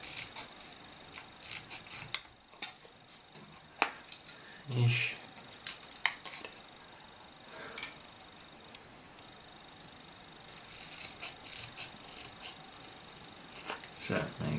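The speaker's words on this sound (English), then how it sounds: "fairly easy to cut with the trusty scissors." Scissors cut through plastic card topped with a printed sticky label, giving faint scattered snips and crisp clicks, with a few soft spoken words in between.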